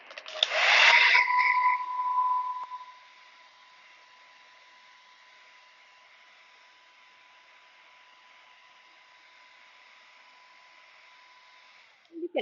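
A hair dryer blows on a painted acrylic portrait, starting with a loud roaring gust for about three seconds, then running steadily at a lower, even hum until it cuts off near the end.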